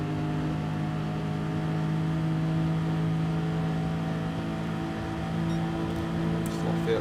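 A race car engine in Gran Turismo 7 holds a steady, loud droning hum with sustained tonal harmonics and slight pitch shifts as the throttle is eased, continuous throughout with no pauses.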